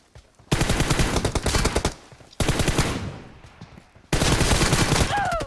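Automatic gunfire rattles in the mobile game PUBG Mobile, played on an iPhone SE 2020, loud rapid bursts of shots in three long volleys separated by short gaps.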